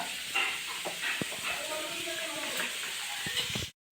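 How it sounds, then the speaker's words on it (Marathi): Large onions roasting in a pan for a village-style Malvani crab curry masala, a continuous crackling sizzle with scattered utensil taps and scrapes, ending abruptly. "कांदा भाजायला ठेवलेला आहे तो आता परतून घ्यायचा आपल्याला व्यवस्थित भाजून घ्यायचं आहे"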